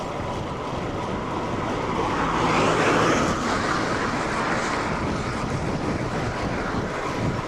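Wind rushing over a microphone during an outdoor road and gravel bike ride, a loud continuous broadband roar that swells slightly mid-way, with no voices.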